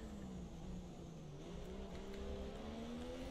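A Formula 1 race car engine at full throttle in F1 2017, a steady high-pitched whine that climbs in pitch, heard up close with continuous loud rev and no talk.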